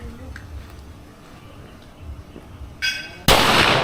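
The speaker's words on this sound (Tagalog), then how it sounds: "Oh, tama, apat na putok." Gunfire at the 168 Shooting Range, likely from a Metrillo gun: two sharp, close shots ring out near the end, the second louder, after a quiet stretch of faint background noise.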